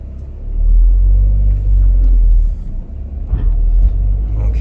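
A shop car driving with its engine running, a loud low rumbling drone heard close up, rising and dipping slightly as it pulls away.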